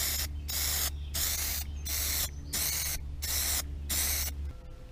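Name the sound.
spraying a coat of Plastidip onto a hook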